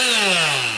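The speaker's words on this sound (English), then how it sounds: "I'm just going to take my Milwaukee M12 grinder." A Milwaukee M12 cordless grinder cutting sheet metal, a loud, close, high whine that holds steady with a slowly dropping pitch.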